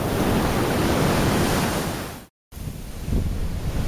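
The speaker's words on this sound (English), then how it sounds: "Gonna get a little bit further into those waves there." Loud, continuous roar of ocean waves breaking on Secret Beach, Kauai, Hawaii, heard close with wind buffeting the microphone and a brief cut to silence partway through.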